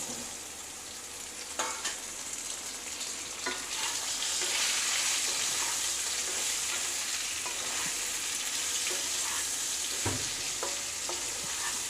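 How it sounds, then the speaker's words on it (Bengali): Potatoes and sliced ridge gourd sizzle steadily in a pan over a low gas flame, with occasional stirring clinks and scrapes over the continuous frying hiss. "তো বন্ধুরা এবারে আলুগুলোর মধ্যে আমি দিয়ে দেবো এই কেটে রাখা ঝিঙেগুলো।"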